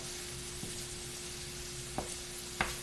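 Mixed vegetables stir-frying in a pan for a veggie stir fry: a steady, fairly quiet sizzle with a few soft scrapes of stirring, and no voices.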